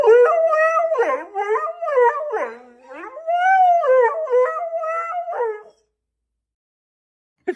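A dog howls loudly and close in a series of long, wavering, rising and falling wails with yips between them, lasting several seconds before stopping abruptly into silence.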